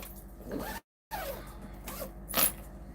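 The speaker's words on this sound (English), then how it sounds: "And then it all just zips up" Zipper pulled closed on a sewn fabric craft bag, a quick rasping run with a sharper burst near the end, close and fairly loud, with a short silent gap partway through.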